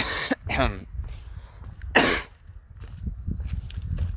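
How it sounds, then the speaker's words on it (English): Two or three harsh, close coughs burst out, one early and one in the middle, separated by quiet background rustling. "speaking of noise pollution, my coughing"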